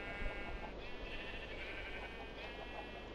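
Sheep bleating on a Minecraft Skyblock sheep farm, a steady stream of game animal calls sitting over a constant background hum, moderately quiet and unbroken, with no talking.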